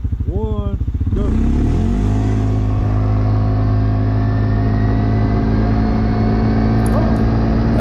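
A 2020 CFmoto Cforce 450 ATV launches from a standstill on gravel and accelerates hard toward 40 mph, its engine note climbing steeply then holding a loud, steady drone close by, with a brief voice at the start.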